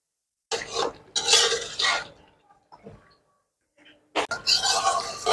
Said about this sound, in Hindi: ये देखें गोश्त भी भूनता जाएगा